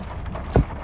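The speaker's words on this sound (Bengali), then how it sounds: "বৃষ্টি হচ্ছে, তারপর শিলা পড়ছে পুরো রীতিমতো" Rain with hail pelting down during a sudden storm in Sikkim, a steady close wash of drops with one brief louder burst of impact partway through.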